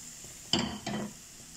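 Pieces of chicken breast hit a hot pan of softened onion, making two short, faint bursts of sizzling and stirring close by, with quiet in between and after.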